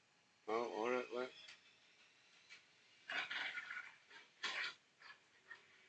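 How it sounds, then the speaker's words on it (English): Dog noises from the Call of Duty video game, a short burst of harmonic whining or barking early on, then a few scratchy noisy bursts later, moderately loud over a quiet game background. "I do like the dog."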